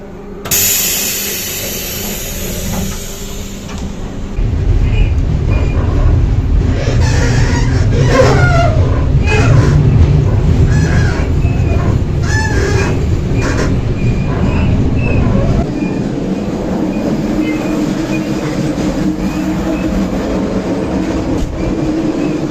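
An old, worn-out Soviet passenger train runs along the rails, a loud, close rumble with rattling carriage noise and rhythmic clatter that swells after a quieter start and continues without speech.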